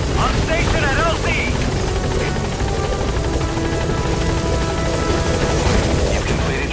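Helicopter arriving at a landing zone in the Metal Gear Solid V video game: loud, continuous rotor thrum and engine roar close by, with radio voice chatter heard over it.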